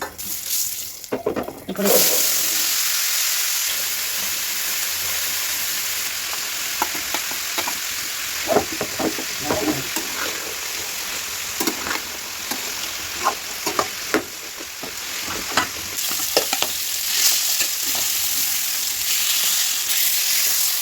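Fish seasoned with salt and turmeric fry in a pan with a loud, constant sizzle that flares sharply at the start, dotted with occasional clinks and scrapes, close up and without speech.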